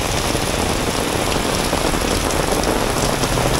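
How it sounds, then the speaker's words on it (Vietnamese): Loud, dense heavy downpour in Nha Trang, Vietnam, hissing steadily and close by, an unbroken wash of rain with no voices. "lượng mưa khủng khiếp"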